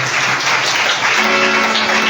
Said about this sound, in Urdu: خدا یسوع کے لیے زوردار تالیاں بجائیں.